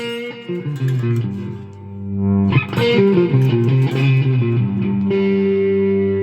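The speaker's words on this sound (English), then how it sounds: "Reverb, plate reverb." Electric guitar through a Tonex pedal's plate reverb plays sustained notes and chords with a lush, washy reverb tail, loud and close, with no voices.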